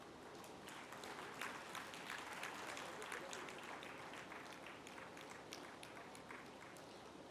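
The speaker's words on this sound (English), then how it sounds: "A huge round of applause for them" A crowd applauds steadily for several seconds, with dense, continuous clapping and no pauses.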